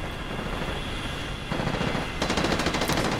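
Automatic gunfire in Modern Warfare 2 Remastered, rapid continuous bursts that grow louder and denser partway through, close and sustained with no talking.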